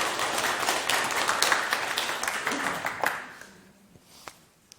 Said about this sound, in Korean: 야, 역시 박수 한번 치세요.